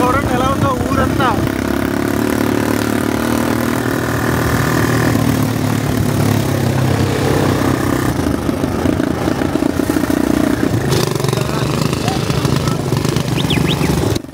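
Quad bike engine running in the desert at Giza, a loud continuous close motor drone with rattling and wind, and a voice speaking over it at times.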